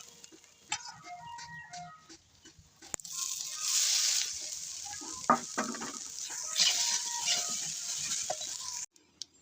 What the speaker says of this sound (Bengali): এখানে আমার গাজর আর আলুটা ভালোভাবে ভাজা হয়ে গেছে এবার আমি ভাতটা দিয়ে দেবো